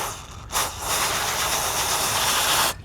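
CRC aerosol cleaner sprays onto an old t-shirt rag, once in a short burst and then in a long continuous hiss of about two seconds, loud and close.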